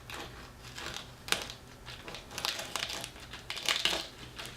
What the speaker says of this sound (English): Cut along the stem and discard the stem.